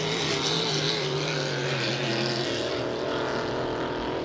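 Hydro350 hydroplane racing boats roar side by side on the water at Valleyfield, their engines making a loud, continuous, droning whine with no pause throughout.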